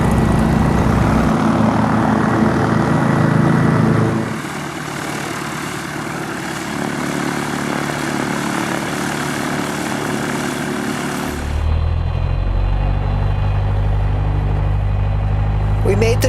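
A propeller airplane engine runs steadily as the plane readies for takeoff, a loud, continuous droning roar whose pitch and level shift partway through.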